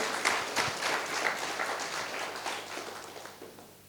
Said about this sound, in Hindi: Give them a very very big hand. जोर से ताली दीजिए।